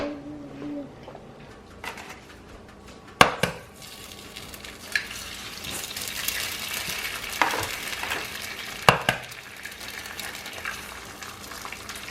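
Two eggs sizzle and spit in a hot frying pan for a home breakfast, a steady crackle broken by a few sharp clanks and scrapes of utensils against the pan.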